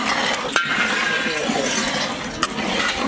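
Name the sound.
water poured slowly into simmering tomato kuzhambu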